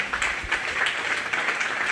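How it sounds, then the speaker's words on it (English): Crowd applause at the Greene County Fair as a senior showman leaves the show ring: steady, dense clapping from a fairly distant audience, continuous for the whole stretch with no clear voices. "Let's give him a round of applause as he exits the ring"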